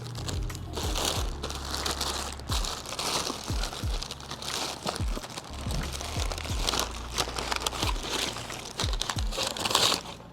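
Plastic packaging crinkles and crackles as it is pulled off a new GT3076 turbo, a close, continuous rustling with sharper crunches throughout.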